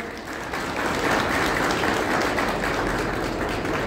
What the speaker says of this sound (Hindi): एक बार अपनी भी ताली बजाओ आप लोग सब।